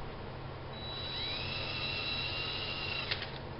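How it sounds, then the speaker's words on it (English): A small drill fitted with a 5/64 bit bores a pilot hole during a neck reset on a hollow-body Gretsch guitar. The motor gives a thin, rising high whine that holds steady for a few seconds before stopping, close up and alone. "I'm going to start off with a little pilot hole with my 5/64 bit"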